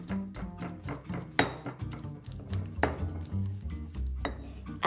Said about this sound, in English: Pound them to a pulp, then add 1 tablespoon of palm sugar and beat everything together.